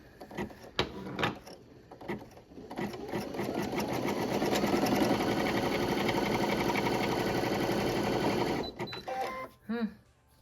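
Embroidery sewing machine stitching a zipper pouch in a 5x7 hoop, a steady fast mechanical whir running for several seconds after brief clicks and a few words of talk, then stopping into handling clatter.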